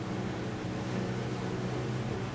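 A Jeanneau NC 895 Sport boat's engine drones steadily at about 3,700 RPM as the boat runs downstream at speed, a continuous low rumble with water and wind noise mixed in.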